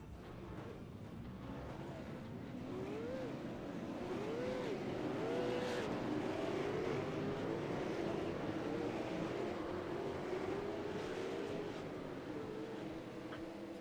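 V8 race cars on the grid at Lime Rock in iRacing sit idling and blipping their engines, a faint continuous rumble with rising and falling revs wavering across the whole stretch.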